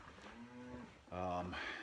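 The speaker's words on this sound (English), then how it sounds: "you can obviously still tell that they're bawling," Weaned steers bawling in a barn, two drawn-out moos, the second louder and closer than the first.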